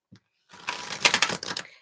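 Tarot cards are shuffled by hand, a short burst of rapid riffling flutter after a brief tap.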